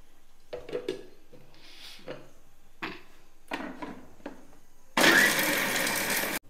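A mixer grinder works in pulse mode, crushing six or seven unpeeled garlic cloves: a few short knocks and thuds come first, then one loud, continuous burst of grinding at the end.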